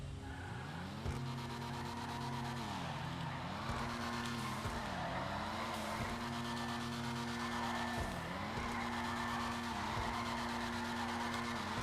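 Tires on a Nissan Fairlady Z33 350Z in a GTA driving game squeal steadily through a long drift, a continuous wailing screech over engine drone with brief dips in pitch, close and loud, no talking.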